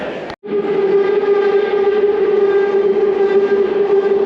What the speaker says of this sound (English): a ratchety squeaking noise